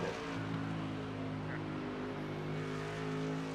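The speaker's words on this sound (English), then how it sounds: "The new P2 is going through the chicane on the GP circuit," Porsche-style P2 race car threading a chicane on a GP circuit in a racing video game, a steady loud engine drone with layered harmonic tones holding close throughout, no talk.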